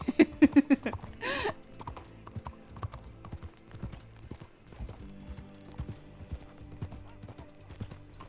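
Rapid clip-clop of horse hooves in a video game at the start, followed by a brief whinny, then steadier hoofbeats continuing beneath faint background game sounds.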